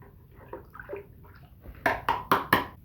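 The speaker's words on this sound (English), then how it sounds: "Give it a little bit of stir action." Spoon or stick stirring trisodium phosphate cleaner powder into a container of warm water, giving faint early swishes and then four louder, distinct sloshing strokes in a steady rhythm near the end, close up, with no talk.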